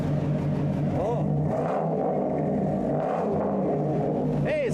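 A big Chevy LS2 V8 engine idles with a deep rumble and is blipped a couple of times, the revs briefly climbing and falling, with voices nearby.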